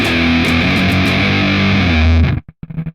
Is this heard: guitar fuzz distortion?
yes